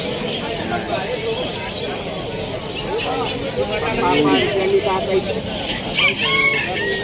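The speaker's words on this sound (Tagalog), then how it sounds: "May ibon." Chickens and roosters crow and cluck at the Malabon pet market, close and lively, mixed with people chattering in the background throughout.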